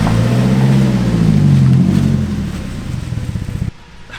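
A BMW E36 sedan being driven, its engine droning loudly and steadily from inside the car before the sound drops off sharply near the end.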